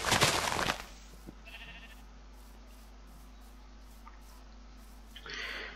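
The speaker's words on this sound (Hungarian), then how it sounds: "Bárányok." Sheep in the modded Minecraft game Tekkit give a loud, harsh bleat at the start, then a quieter bleat near the end, with a low steady game hum underneath.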